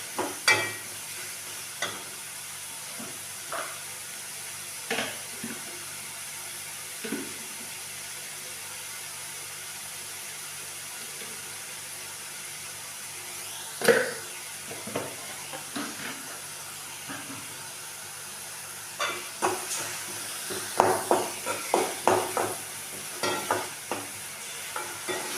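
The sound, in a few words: stir-frying onions, green chillies and ginger garlic paste for momos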